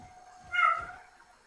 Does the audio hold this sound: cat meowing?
yes